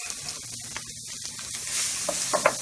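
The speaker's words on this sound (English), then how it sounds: "In here you can hear that sizzle." Mutton with ground spices fries in a hot pan on a gas stove, giving a soft continuous sizzle and hiss that swells slightly near the end, with a few light pops and stirring clinks.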